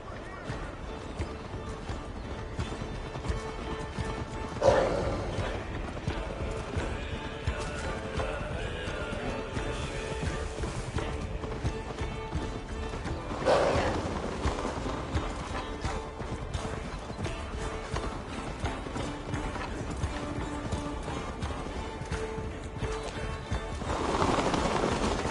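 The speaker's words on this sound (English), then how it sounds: "Faster, Eivor! Ride like Sleipnir's hooves" Horse hooves galloping in the Viking-era video game Assassin's Creed Valhalla, a continuous rhythmic clip-clop running throughout, with occasional louder whooshes and game voices speaking over the ride.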